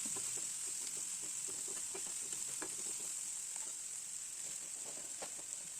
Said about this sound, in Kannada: ಒಂದು 5 ಮಿನಿಟು ಚೆನ್ನಾಗಿ ಫ್ರೈ ಮಾಡ್ಕೊಳ್ಬೇಕು.